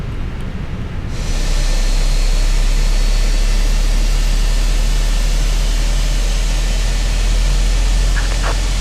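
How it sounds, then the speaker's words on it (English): Number 2 engine of an Airbus A321 spooling up in Microsoft Flight Simulator, a loud steady roar that rises abruptly after a second and holds with a deep rumble and faint whine, no voices. "And engine number 2 will now come on the right hand side."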